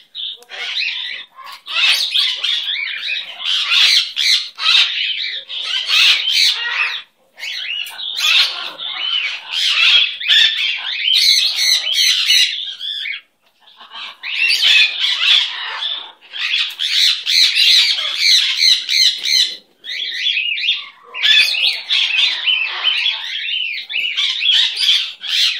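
A pet bird squawks and chirps in long, shrill, close bursts, repeated with brief gaps over many seconds, loud and alone without talk.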